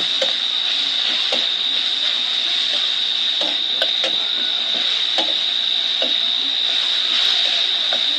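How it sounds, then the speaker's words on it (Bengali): Chicken chowmein stir-frying in a pan gives off a steady, loud sizzling hiss with a high whine, punctuated by light, irregular clicks of a utensil against the pan. "আর একটু কিছু সময় ভালোভাবে ভেজে নেব।"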